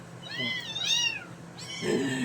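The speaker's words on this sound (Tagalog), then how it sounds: "Ito yung na-rescue ko ngayon guys na pusa" A hungry rescued kitten meows several times, thin and close, with rising and falling cries in quick succession over a faint background hum.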